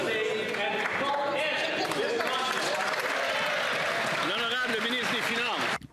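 Applause in the House of Commons, a steady loud wash of clapping from many members filling the chamber, with voices talking over it throughout.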